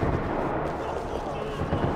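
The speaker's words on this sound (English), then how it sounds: "Another parking lot rattling with gunfire." Gunfire rattles through a parking lot in the video game Max Payne 3, dense rumbling bursts and heavy blasts blending into a loud continuous roar for two seconds.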